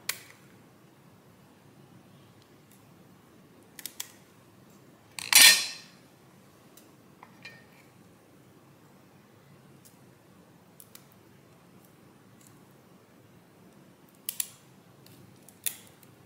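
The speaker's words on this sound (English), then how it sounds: "These parts back here is also like sharp, sticking out. I'm gonna cut it off." Kitchen scissors snip sharp shell parts off a raw blue crab, giving a few scattered crisp clicks and one louder crunching cut in an otherwise quiet room.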